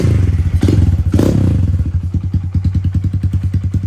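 Kawasaki KLX110L pit bike engine idling up close, loud and thumping, with a couple of throttle blips early on, then it settles into a steady, even putter.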